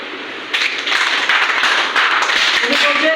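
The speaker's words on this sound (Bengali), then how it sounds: "ওনার জন্য একটা হাততালি দেবেন" An audience at a business training session breaks into clapping after a short lead-in, steady hand claps continuing to the end with some room noise.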